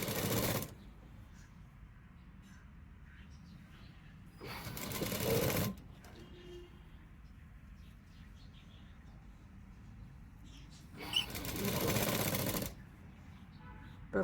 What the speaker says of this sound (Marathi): तर हा आपला गळा आता कवर होईल एवढी टिप मारून झाली की